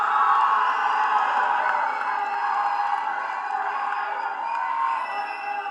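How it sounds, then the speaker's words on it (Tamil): A big round of applause and cheering for Santhanam from a crowd at a film event, a steady roar of clapping mixed with shouts and whoops. "சந்தானம் அவர்களே ஒரு பெரிய கைத்தட்டலோட."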